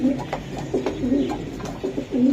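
Giribaz high-flyer pigeons coo close by, repeated low throaty calls overlapping in a steady rhythm over a soft background murmur.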